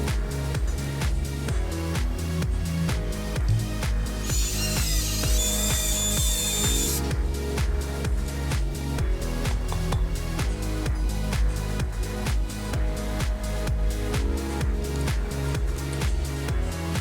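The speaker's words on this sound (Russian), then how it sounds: "Делаем отверстие." Power drill boring a hole in a metal element for a homemade 145 MHz J-pole antenna, a steady close whirring drive with a brief higher-pitched screech of the bit cutting partway through, no talking.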